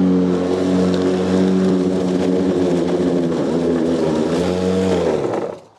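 A Stihl commercial battery lawnmower climbs a slope under strain, its steady whirring hum shifting in pitch near the end before cutting off abruptly, loud and close with no talk.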